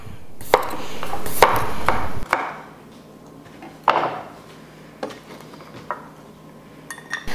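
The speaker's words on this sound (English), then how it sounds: "And again, we're just dicing them." Knife dicing thin-skinned potatoes on a cutting board, with sharp scattered chops and clacks at irregular intervals, some louder strikes and quieter taps in between.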